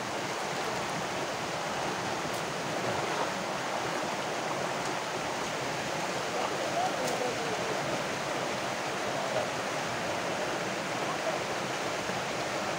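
A waterfall and stream in Barangay Nonoc, Claveria, Masbate, producing a steady broadband rush of flowing water, constant and enveloping for the whole stretch with no voices.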